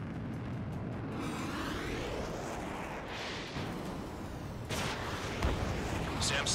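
An explosion from a destroyed SAM site in the video game Ace Combat 7: a sustained rumbling roar with broadband blast bursts near the end, loud and continuous, over jet and battle noise.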